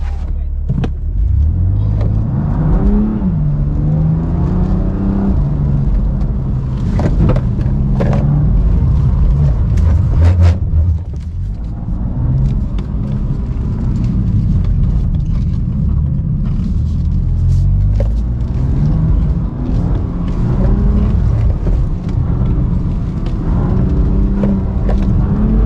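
A rear-wheel-drive BMW accelerating in sports mode on a slippery driving-experience track, its engine rumbling loud and close with rising and falling revs through the whole stretch, while people talk over it at times.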